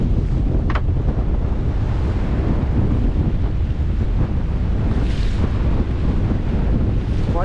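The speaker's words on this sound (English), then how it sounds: "White caps and the typical nasty little chop we got in the bay." Strong wind buffets the microphone aboard a Westsail 32 sailboat on a stormy bay, with choppy whitecapped waves splashing steadily and loudly against the hull throughout.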